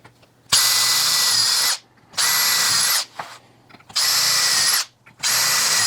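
Power drill boring holes while fitting carbon fiber lipo trays to an Xmaxx RC truck: four loud, close whirring bursts of about a second each, separated by short pauses.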